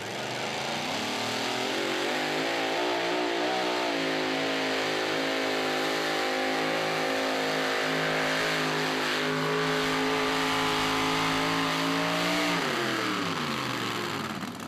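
A loud, steady supercharged pulling tractor engine roar drones continuously at a truck and tractor pull, rising and falling slightly in pitch as it strains hauling the sled before easing off near the end.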